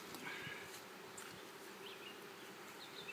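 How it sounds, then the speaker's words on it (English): Honeybees buzz at an opened hive, a soft continuous hum of many insects with individual bees droning past close by now and then, faint and without talk. "I got all these bees here"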